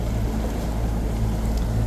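A Yamaha SHO 250 outboard motor idles on a 2026 Skeeter ZXE bass boat, a steady low rumble close by with wind and water noise around it and no talk.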